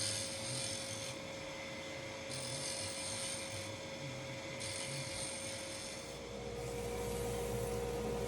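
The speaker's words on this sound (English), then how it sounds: "So here I'm just using a quick shear scrape." A freshly sharpened bowl gouge shear-scrapes a small wooden yoyo spinning on a lathe, giving a continuous close rasping hiss over the steady motor whine, broken into short repeated passes as the tool moves across the wood.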